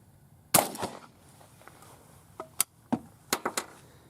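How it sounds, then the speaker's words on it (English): A .410 shotgun loaded with buckshot fires outdoors, one sharp report followed by several fainter distant cracks and echoes against a quiet background. "We'll take a couple shots with these guys."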